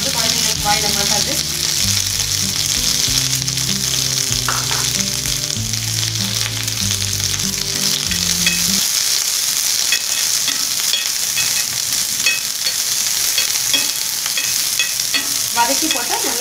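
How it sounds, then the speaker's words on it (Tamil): Loud, continuous sizzling of onions frying in hot oil in a pan, with stirring clatter early on and a steady crackling hiss throughout. "நான் இதெல்லாம் ஃப்ரை பண்ணி போடுறேன்."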